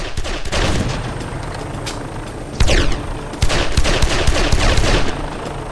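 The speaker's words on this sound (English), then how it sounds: "this fucking chopper had me pinned down tight." Attack helicopter firing in the Mafia-style game Made Man on PC, heard as dense bursts of automatic gunfire and sharp cracks, loud and close, with heavier volleys arriving in the second half.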